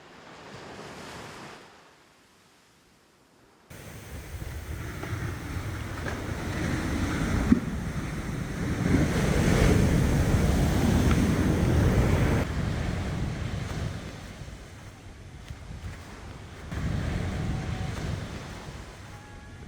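Gentle ocean waves washing ashore at Dreamland beach in Uluwatu, a soft continuous rushing surge that swells and fades with wind buffeting the microphone, after a brief quiet start.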